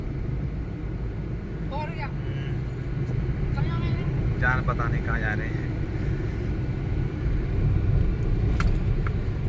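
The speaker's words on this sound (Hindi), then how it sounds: "सामने से गाड़ी आ रही है" Car approaching on a service road, a steady low engine and tyre rumble that stays prominent from start to finish while people talk over it.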